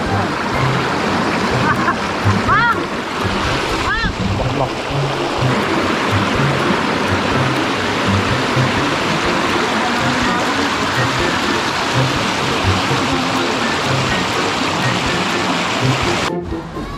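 Steady rushing water of a stream channeled into a spot in Doña Remedios Trinidad, Bulacan, flows continuously, loud and close, a broad wash of noise with brief faint voices near the start.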